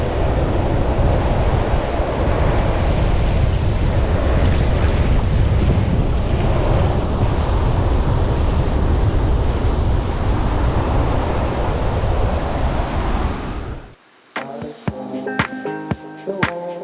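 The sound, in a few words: big ocean waves on beach during Tropical Storm Bonnie, Toco, Trinidad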